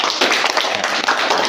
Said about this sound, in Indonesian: tepuk tangan buat Fatih